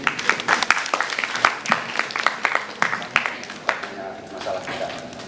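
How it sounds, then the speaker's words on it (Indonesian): Lecture audience at a guest lecture applauds the guest, a crowd of scattered claps of varying strength that gradually thins out while a voice speaks over the applause. "Mungkin boleh tepuk tangan buat Kang Yusing"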